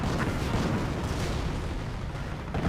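A dense, continuous artillery barrage in the real-time strategy game Company of Heroes, with booming blasts blurring into one rumbling wall of explosions that stays loud and steady throughout.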